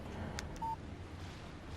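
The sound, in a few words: phone text message alert in Alan Wake video game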